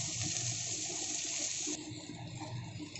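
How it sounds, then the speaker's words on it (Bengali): Chopped onions frying lightly in a pan for amudi fish jhal, giving a steady close sizzling hiss that eases slightly partway through. "আর এখন দিচ্ছি পেঁয়াজটা দিয়ে একটুখানি ভেজে নেব"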